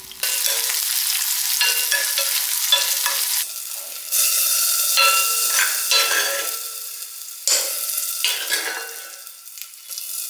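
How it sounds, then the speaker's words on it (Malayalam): Small onions sauté in coconut oil with curry leaves, a close, bright sizzle that surges in repeated bursts as the pan is stirred, with short quieter gaps between. "ഇനിയിപ്പോൾ ഇതാ വെളിച്ചെണ്ണയിൽ ചെറിയ ഉള്ളി നമുക്ക് വഴറ്റിയെടുക്കുകയാണ് വേണ്ടത്."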